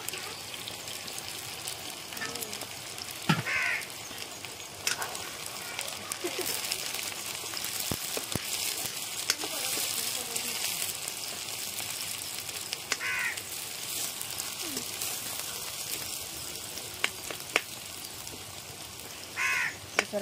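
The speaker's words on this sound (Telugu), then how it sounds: "ఇదిగో ఉల్లిపాయలు వేసేసుకుంటున్నానండి" Onions fry in a pan for curry with a soft, steady sizzle throughout, scattered pops and crackles, and crows cawing now and then in the background.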